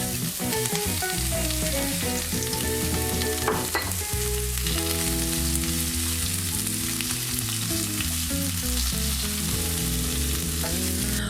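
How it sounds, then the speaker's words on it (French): Fennel with spices cooks in a pan, giving a steady close sizzle and frying hiss throughout, with a louder bright crackle near the start and tonal background music running underneath. "Donc pendant que le fenouil cuit délicatement"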